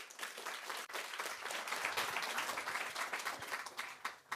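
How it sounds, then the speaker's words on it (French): An audience applauds steadily through a talk on gene therapies, a dense, even patter of many hands that swells slightly and holds before cutting off abruptly at the end. "sous vos applaudissements"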